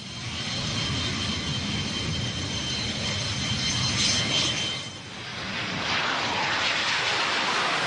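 A Mikoyan-Gurevich MiG-29 Fulcrum jet roars steadily at a distance, a broad rushing engine noise that dips briefly midway and then swells again, with no voices.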